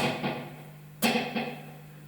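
An Echolette NG 51 tube tape echo with two replay heads engaged turns each fairly quiet struck sound into a short flam of closely spaced repeats, over a steady low hum.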